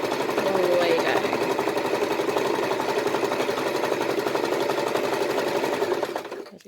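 A sewing machine runs quilting stitches in lines, a steady close-up whirring hum that holds for about six seconds before winding down to a stop.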